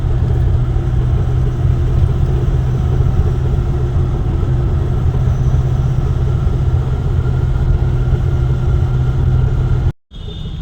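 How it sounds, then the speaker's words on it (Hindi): Engine rumble and road noise heard from inside an empty truck cruising at about 70 km/h on a highway bypass. The sound is steady and loud for about ten seconds, then cuts out briefly near the end. "गाड़ी चल रही है 70 की स्पीड पे।"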